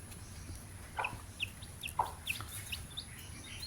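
Chickens, including roosters, give short clucks and chirps, about eight separate calls spaced irregularly over a faint steady background, moderately close and not loud.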